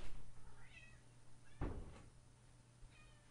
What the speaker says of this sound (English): excuse the cat. She thought she was going to die if she didn't get to come in the room.